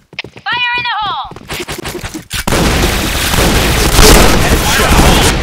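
A video game firefight: after a short burst of synthetic tones and clicks, a grenade blast erupts, followed by sustained loud gunfire and booming that fill the rest of the moment, close and harsh.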